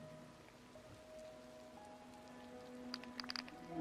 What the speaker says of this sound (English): It's good thing it's raining because of the crops.